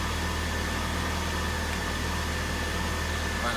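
A 2001 Saturn SC2 engine idles cold right after a tune-up with new spark plugs, a smooth, even hum with a faint steady whine, moderately quiet and uninterrupted.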